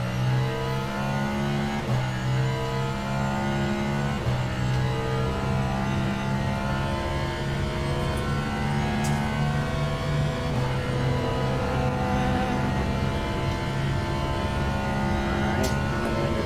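A race car engine in the Le Mans Ultimate racing game, droning loudly and continuously with rising revs that drop at gear shifts, and other cars passing close by.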